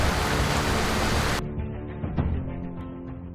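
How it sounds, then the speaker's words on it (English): Heavy rain pouring in the Blue's Clues DX video game, a loud dense hiss that cuts off abruptly partway through, leaving quieter game sounds and music. "Wow. That was one crazy rain cloud."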